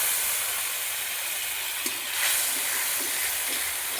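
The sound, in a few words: spice mix sizzling in pan after adding water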